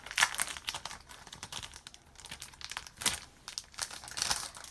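Plastic wrapping around stationery items crinkles and crackles in close, irregular bursts, with louder crunches near the start and end and no talking.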